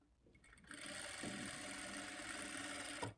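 A sewing machine runs a straight stitch along a blouse side seam, a steady close whirring hum lasting a couple of seconds after a soft start, then stopping abruptly.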